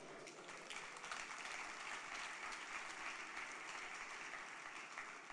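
Church congregation applauding, a steady, even wash of many hands clapping for several seconds, faint and distant, with no speech over it.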